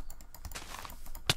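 Keyboard and mouse clicking during a Hive Survival Games session, played with hands swapped. Soft scattered clicks and key taps sit close and quiet, ending in one sharper louder click near the end.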